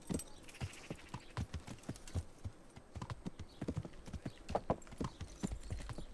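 Horse hooves clip-clop in a steady walking rhythm in Kingdom Come: Deliverance, close and fairly quiet, with faint jangling between the steps.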